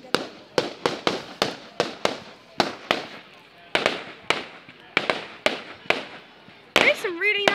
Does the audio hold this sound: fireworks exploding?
yes